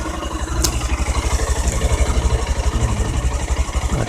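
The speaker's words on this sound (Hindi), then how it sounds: "सुन सकते हो आपके इंजन का साउंड" A Honda X Blade BS6 motorcycle engine idles close by, a steady, even low-pitched chugging with a rapid regular pulse that holds throughout, with no voices.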